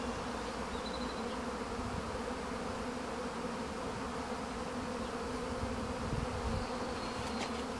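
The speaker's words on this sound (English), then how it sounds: "this is what's called a prime swarm, which I don't want to lose" A prime swarm of honeybees buzzes loudly and continuously outdoors, a dense, steady hum of many wings filling the air with no talk over it.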